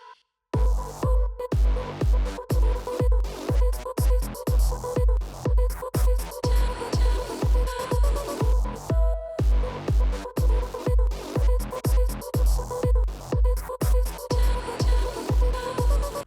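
Music track chorus following sampled drums, with punchy, steady kick-driven beats and a sustained melodic layer repeating in a regular rhythm at a moderate level.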